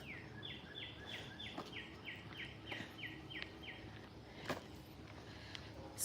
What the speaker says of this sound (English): Hearing all the birds.